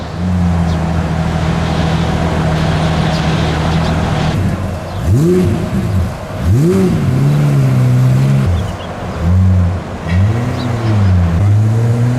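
A Pagani Zonda supercar drives up a ramp at Dubai Airport, its loud engine holding a steady drone before rising and falling through several sharp revs, heard up close.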